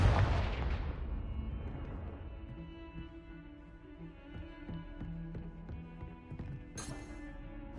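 A Confringo spell explosion in Hogwarts Legacy lands as a deep, booming blast. A rumbling tail fades out under faint scattered crackles and a short bright burst near the end.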